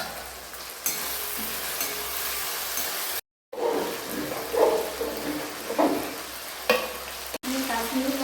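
Winter vegetables for khichdi sizzle in hot oil in a pan, with loud frying hiss and repeated scraping stirs at close range, broken by a brief cut.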